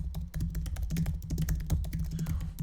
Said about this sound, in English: We're typing in coded languages. We're typing code.